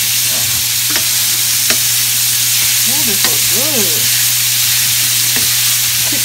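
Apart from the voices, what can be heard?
stirring food frying in a pan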